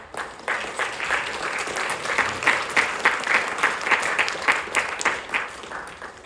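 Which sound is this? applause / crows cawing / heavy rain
applause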